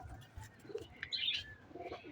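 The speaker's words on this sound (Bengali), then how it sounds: "আর এই যে আমাদের কবুতর" Pigeons on a rooftop give a few soft, faint coos and brief chirps, quiet and somewhat distant, with light background noise.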